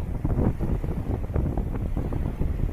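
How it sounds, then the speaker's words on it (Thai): Strong wind blows by the sea at Skive, Denmark, where waves run all night. It makes a loud, steady, low buffeting roar against the microphone, with no voices. "คลื่นทั้งคืนครับลมแรง"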